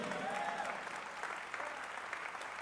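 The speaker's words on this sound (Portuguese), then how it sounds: "pode aplaudir o Senhor" Congregation applauding at a church service, a steady, dense wash of many hands clapping that carries on evenly throughout with no talk over it.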